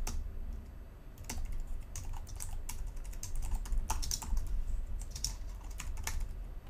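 Computer keyboard keys tapped while writing XAML in a code editor, a steady run of light, scattered clicks at close range with no talking.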